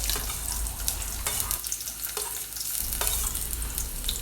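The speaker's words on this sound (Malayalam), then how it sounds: "വെളിച്ചെണ്ണ ഒഴിച്ചതിന് ശേഷം നമുക്കതിലേക്ക് കുറച്ച് സവാള അരിഞ്ഞതും ചെറിയ ഉള്ളി അരിഞ്ഞതും ഇട്ട് കൊടുത്തിട്ട് ഒന്ന് മൂപ്പിച്ചെടുക്കുക" Chopped onions and shallots fry in hot coconut oil for mutton curry, a loud continuous sizzle broken by several stirring scrapes.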